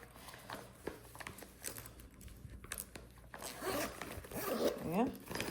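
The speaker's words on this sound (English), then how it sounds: "Now you have to zip and unzip." A corduroy lunch bag is zipped and unzipped, giving several short rasping zipper pulls mixed with handling rustle, close by, with a person talking alongside.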